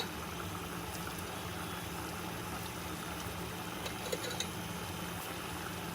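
Rajma gravy boiling in a pot, a steady low bubbling simmer with faint occasional pops, continuous and even, no voices.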